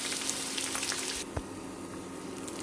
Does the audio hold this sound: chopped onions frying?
yes